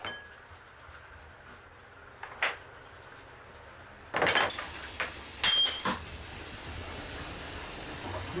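In a home kitchen, dishes break with a few sharp crashes and clinks of crockery, followed by a scattered clatter of pieces against a quiet room background.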